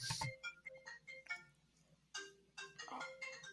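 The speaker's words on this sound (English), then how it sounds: "Phone rang, y'all." A phone ringtone plays during a conversation, a tinny melodic ring heard as a series of short tonal bursts, quiet and close, with no speech over it.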